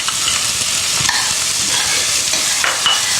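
One whole medium onion frying in ghee with browning cumin in a pan, giving a steady, loud, close sizzle with light stirring scrapes and no voices.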